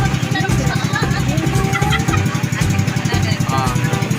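An overloaded pump boat's engine drones loudly and steadily, its rough throbbing note constant throughout, while people talk over it.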